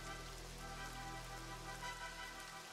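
Steady, dense hiss of rain pours continuously in a strategy war game, an even wash of sound with no breaks or voices.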